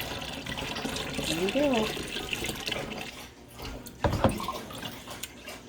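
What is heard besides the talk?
apple cider vinegar being poured through a funnel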